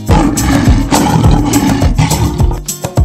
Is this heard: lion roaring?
yes